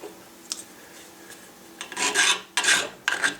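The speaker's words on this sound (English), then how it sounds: "You want to go ahead and file those heads off the screws." A hand file rasping screw heads smooth and even with the butt plate on a wooden gun patchbox, several short close scraping strokes that grow stronger in an irregular rhythm.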